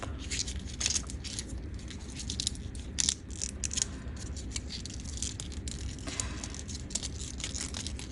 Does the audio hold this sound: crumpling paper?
yes